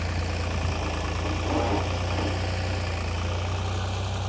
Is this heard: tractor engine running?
yes